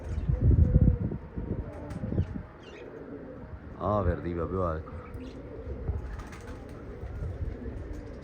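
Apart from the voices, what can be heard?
pigeons cooing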